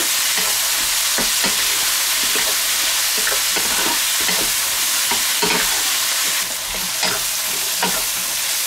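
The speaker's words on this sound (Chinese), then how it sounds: "再次翻炒均匀。" Diced potato stir-fried in a wok with scallion and green pepper sizzles loudly and continuously, broken by repeated scraping and tossing clicks of the spatula, up close.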